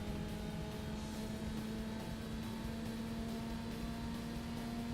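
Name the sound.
car engine in Forza Motorsport video game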